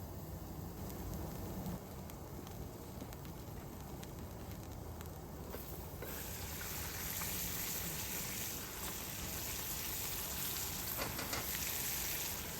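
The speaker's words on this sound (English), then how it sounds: "we're gonna let her simmer for about 15 minutes" A covered pot of food simmering, a soft continuous bubbling hiss that grows slightly brighter partway through, faint and steady with no voices.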